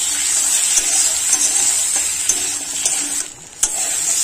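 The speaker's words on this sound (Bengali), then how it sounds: "সামান্য লবণ দিয়ে আলুটা ভেজে নেব।" Salted potatoes frying in a kadai give a steady sizzle broken by repeated spatula scrapes and taps against the pan, with a short lull near the end before one more knock.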